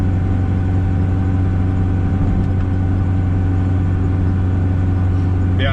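A turbocharged Ford EF hatch cruises in fifth gear around 2,800 RPM under light boost, its engine giving a steady, close, loud low drone with a constant hum and no change in pitch.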